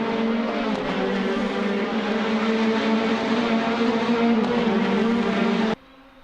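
Formula 4 race cars at Donington Park National circuit give a loud, sustained engine drone with steady tonal pitch, continuous for several seconds before cutting off abruptly near the end.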